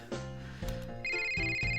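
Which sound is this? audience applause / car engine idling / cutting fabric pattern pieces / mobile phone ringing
mobile phone ringing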